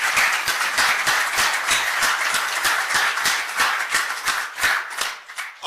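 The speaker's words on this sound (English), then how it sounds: "I want to give all of them a round of applause and appreciation." An audience at a law school symposium gives a round of applause, dense rhythmic clapping filling the room steadily for several seconds, close and fairly loud.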